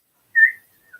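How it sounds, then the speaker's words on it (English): A person whistles one short, clear note, followed by a fainter, briefer second note in near silence. "whistling."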